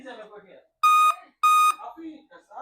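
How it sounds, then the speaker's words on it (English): A Dell Inspiron 15 3542 laptop that powers on but fails to boot, suspected RAM fault, gives two long, loud electronic beeps in a row, with a person talking before, between and after them. "Why the laptop is beeping, but the laptop is on."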